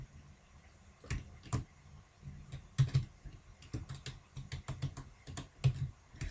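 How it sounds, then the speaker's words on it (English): A mechanical computer keyboard is typed on nearby, irregular clusters of sharp clacky keystrokes with short pauses between bursts, no talking. "sorry if my keyboard's really loud"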